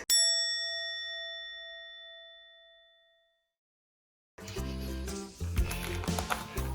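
A toy ladybug gives a single bright electronic ding that rings out and fades over a few seconds, followed by a brief silence and then louder mixed background noise.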